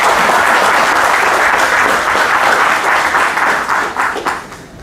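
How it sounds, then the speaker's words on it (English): An audience at a business talk event applauds a guest speaker with dense, sustained clapping that fades toward the end; loud and close, with no voices over it. "A big round of applause for our guest."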